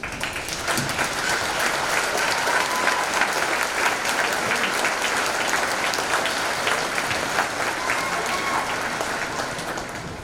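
A high school graduation crowd gives graduating students a sustained round of applause, a steady wash of many hands clapping that holds evenly for about ten seconds before easing slightly at the end.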